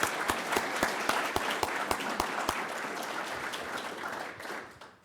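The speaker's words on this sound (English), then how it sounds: "Let's give her one more round of applause." Hearty, steady applause from a conference audience after a presentation, dense clapping at close range that carries on and then starts to thin and fade at the end.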